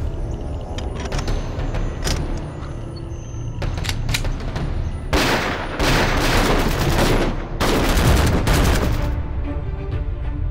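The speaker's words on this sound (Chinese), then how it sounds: "在乡镇周围响起大量枪声" Heavy gunfire erupts around a rural township in a Chinese wartime spy drama, with dense, loud bursts of shots and crackling volleys coming in waves over a steady rumbling background, heaviest in the second half.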